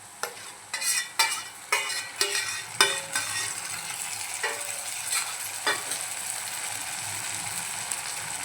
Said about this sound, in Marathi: आता आपण भाजून मॅश करून घेतलेलं वांगं घालून घेऊया.